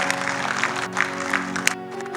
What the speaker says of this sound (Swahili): Tunataka kumpigia Bwana Yesu makofi kwa ajili yake.